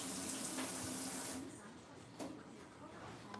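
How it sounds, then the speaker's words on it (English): Warm water runs from a tap in a kitchen during turkey deboning, a close, steady hissing stream that cuts off after about a second and a half, leaving quieter room sound and a faint knock. "Maybe I just need a bowl of warm water to rinse my hands off"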